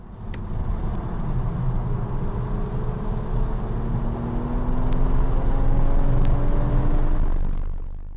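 A Toyota GR Supra at speed on a lap of Pitt Race, engine droning loud and close with rising gear pitch sweeps and tire and wind roar throughout, no talking.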